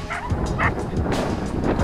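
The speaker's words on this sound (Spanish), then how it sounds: "¡Mira todos los perritos!" Several dogs on a sunny beach yip and bark in quick, excited bursts close by, with some whimpering in between and a little background chatter.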